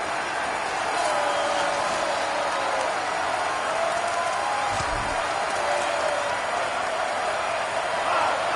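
Steady roar of a stadium crowd in the College Football 27 video game during a Mississippi State game, a constant dense wash of noise with a brief low thump midway and a play-by-play commentator talking over it.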